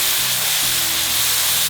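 Ginger-garlic masala with marinade juices sizzling in a pan, a dense, even hiss heard up close and alone for a brief moment.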